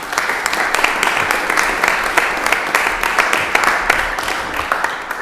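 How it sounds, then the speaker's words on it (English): Applause rises from the audience at a Lowell city council meeting, fairly loud and sustained with distinct individual claps popping through the crowd sound for several seconds. "You deserve a round of applause."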